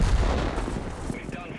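A tank gun fires in World of Tanks with a heavy, booming blast that rolls into a long rumbling decay, loud and close, with no speech over it.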